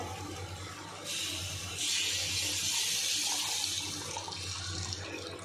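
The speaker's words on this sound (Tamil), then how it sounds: "இந்த புளியிலே உங்களுக்கு எவ்வளோ தண்ணி வேணுமோ அவ்வளோ ஊற்றிக்கணும்" Water pours steadily from a tap in a continuous rushing stream onto tamarind, growing stronger after a moment, with a low hum underneath and no voices.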